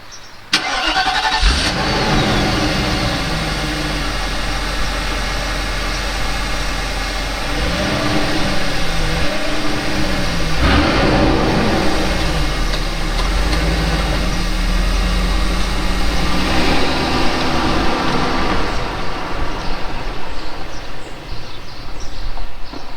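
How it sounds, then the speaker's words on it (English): A Mercedes 500 SEL W140 engine runs steadily and quietly throughout, a low, even hum with a slight rise partway, fairly loud and close, with no voices. "you can hear a little bit how quiet this particular car is."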